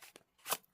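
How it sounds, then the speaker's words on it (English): A deck of Pixies Marseille tarot cards clicking as they are handled and shuffled, giving a couple of brief crisp snaps with one louder click near the end, close and alone. "These cards click quite nice."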